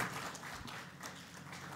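Audience applause for a distinguished panel on internet governance at a Smart Rwanda Days 2014 conference, a steady wash of clapping from a large room that holds moderately loud for about two seconds.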